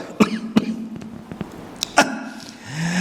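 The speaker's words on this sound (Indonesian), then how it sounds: "Batuk dulu." A few sharp coughs in quick succession, close and loud, followed by a short throat-clearing sound.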